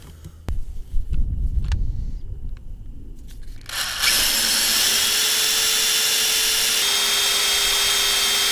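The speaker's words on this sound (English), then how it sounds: "I guess I better pre-drill these holes" Power drill pre-drilling lag-bolt holes in the frame of a jaw rock crusher, starting with a few knocks and handling sounds, then a loud, steady continuous whine running to the end.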